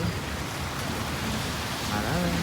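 Steady heavy rain pours down in a continuous broadband roar, with rushing floodwater blending into the downpour.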